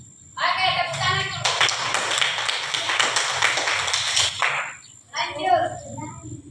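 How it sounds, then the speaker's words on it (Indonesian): Children clap together in an elementary school yard during an outdoor lesson, a dense burst of many small hands lasting about three seconds, with voices chattering before and after. "Oke, tepuk tangan."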